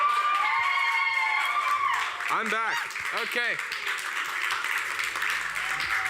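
A student ministry crowd claps and cheers to welcome the game team onstage, steady applause with whoops and shouts, while a voice speaks briefly over it and electronic sweeping tones sound in the middle.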